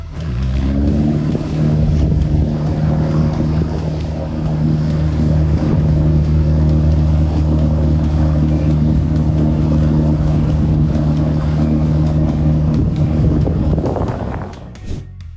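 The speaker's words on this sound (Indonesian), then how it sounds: "ketika kendaraan off-road Typhoon muncul, medan akhirnya memiliki lawan yang sepadan." Typhoon off-road truck engine running loudly and steadily with a deep harmonic drone and wind buffeting, holding a sustained rumble for most of the stretch before cutting off near the end.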